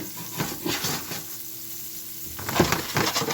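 Garlic sautéing in butter in a pan for a green bean side dish gives a steady close sizzle with a few louder bursts of stirring or shifting, and no voices.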